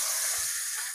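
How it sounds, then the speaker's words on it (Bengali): Karfu fish coated in turmeric and salt fries in hot oil in a kadai, giving off a steady, fairly quiet hiss and sizzle with no talking. "মাছ কড়াইয়ের তেল ভালোভাবে গরম হয়েছে, হলুদ লবণ মাছ মাখা দিয়ে দিলাম।"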